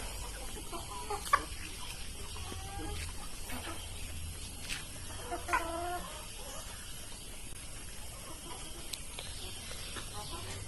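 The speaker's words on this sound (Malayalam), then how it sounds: "ഇത് ആസ്ട്രലോപ്പ് വർഗത്തിൽപ്പെട്ട കോഴികളാണ്" Black Australorp chickens cluck softly in a poultry shed, scattered low calls over a constant background hum, with faint voices in the distance.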